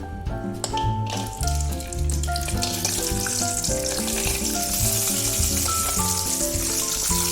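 Almonds fry in coconut oil, making a steady bright sizzle that runs continuously under prominent background music.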